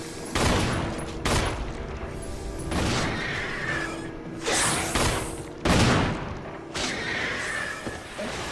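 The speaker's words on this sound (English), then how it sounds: "just get a few pop shots in there with the handgun" Handgun shots in the PS4 version of Resident Evil, played as Jill, ring out as a handful of sharp, loud reports spaced a second or two apart, each followed by a short echoing tail over game ambience.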